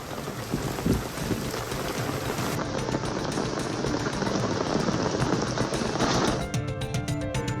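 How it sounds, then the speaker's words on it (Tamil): Heavy rain pours down in Madurai district. It is a dense, loud, continuous roar of rain close by, with a deep rumble early on, and it fades out near the end. "1 மணி நேரத்திற்கு மேல் பலத்த மழை பெய்தது"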